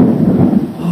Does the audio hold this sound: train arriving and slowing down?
no